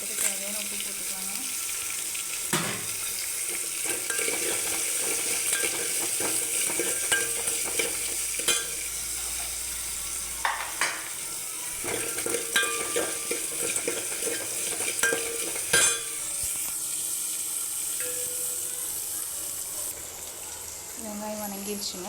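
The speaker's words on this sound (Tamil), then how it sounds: "கொஞ்சம் வெங்காயம் வதங்கிறதுக்கு தேவையான உப்பு போட்டுக்கலாங்க" Onions with salt sautéing in hot oil alongside chillies and curry leaves, giving a steady sizzle broken by repeated sharp scrapes and taps of a spoon stirring the pan.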